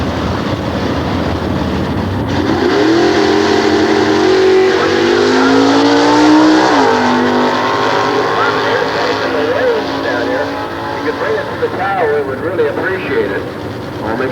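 Comp 1 drag racing cars run at Sears Point at a 1993 nostalgia drags event, a loud sustained engine roar that rises and shifts in pitch under a commentator's talking.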